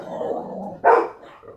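A single sharp dog bark from a household dog, nearby and loud, following a stretch of low growling or rumbling.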